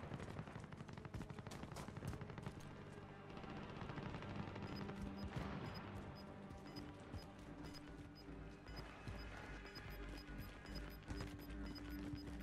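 Distant gunfire in the video game Warzone crackles in repeated sharp bursts and scattered single shots, moderately faint, with a steady background hum and no talking.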